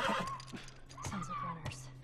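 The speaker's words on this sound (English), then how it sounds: "Stay with the horse." Horse neighing in The Last of Us video game, a whinny that rises and falls over about two seconds, with game ambience and a voice speaking alongside it.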